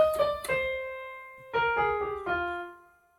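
Keyboard plays a short phrase of a song melody: two quick notes, a pause, then four clear notes ringing and fading, played alone.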